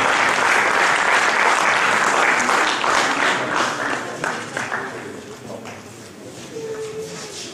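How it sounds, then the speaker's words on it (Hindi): A hall audience at a thinkers forum event in Sialkot claps loudly and steadily, then the applause thins and fades to scattered claps, with a voice briefly heard near the end. "उनके किरदार की अजमत को और इनके किरदार की बुलंदी को बहुत सारी तालियों के साथ सलाम पेश कीजिए"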